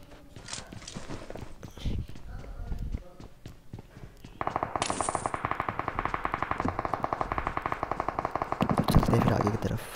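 Rapid automatic gunfire from a first-person shooter game, opening with scattered single shots and footsteps, then a dense, steady burst of machine-gun fire over the second half, loud and close.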